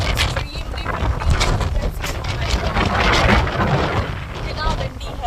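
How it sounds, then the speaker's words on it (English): Strong autumn wind roars and buffets the microphone outdoors in Gothenburg, Sweden, on a rainy day, a continuous rushing noise that swells and eases. "It's extremely windy."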